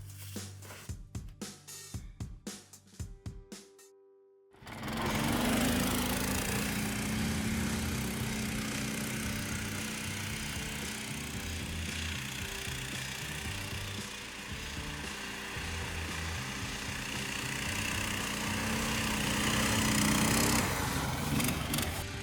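Baltmotors motorized snow sleds, Snowdog and Barboss models, push through deep snow; after a brief choppy start, a loud, sustained small-engine drone runs steadily and close, rising slightly near the end.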